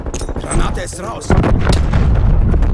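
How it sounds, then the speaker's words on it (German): A grenade explodes in Call of Duty Black Ops Cold War multiplayer with a loud, deep boom that erupts amid ongoing gunfire, while voices shout in German. "Granate ist raus!"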